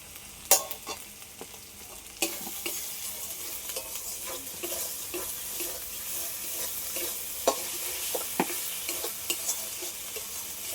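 Spices, chilli, cashew and poppy-seed paste with ground cumin sizzle and fry in a pan for a rupchanda fish curry, with steady hissing and close, repeated spoon scrapes and stirs throughout.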